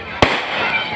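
A single sharp firecracker burst cracks out at a school annual-day function in Tiptur, followed by a wash of crowd and hall noise.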